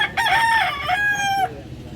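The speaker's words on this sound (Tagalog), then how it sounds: "Manok." A rooster crows loudly and close at a busy chicken market in Consolacion, Cebu, one long drawn-out call with a rising then falling pitch, fading out at the end.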